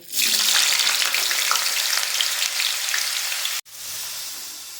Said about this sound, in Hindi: अब हम फ्रेंच फ्राइज बना लेंगे।